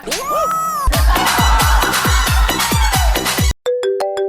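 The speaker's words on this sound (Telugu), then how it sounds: "నీకేదో ఫోన్ వస్తున్నట్టుంది." A phone ringtone plays loudly: a bright electronic melody over pulsing low beats, then a short pause and a sharper repeating chime pattern.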